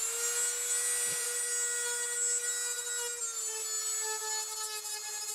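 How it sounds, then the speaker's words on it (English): A mini grinder grinds gaps into a LoRa gateway filter board, a steady high-pitched whine with a constant hum and bright upper tones, loud and close throughout without speech. "I'm gonna use my mini grinder here."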